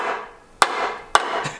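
Two sharp metal strikes about half a second apart, followed by a softer third tap, as a dull star screwdriver standing in for a center punch is hammered while working on a triple-turbo LS Mustang.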